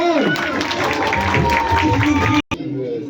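Crowd applause at a late-night political rally, dense continuous clapping and cheering close by, dropping out abruptly near the end before resuming more faintly.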